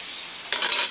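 String beans and okra dropped into a hot pan, a sudden bright sizzle bursting in halfway through after a low hiss, with a couple of stirring scrapes, close and fairly loud, no talking.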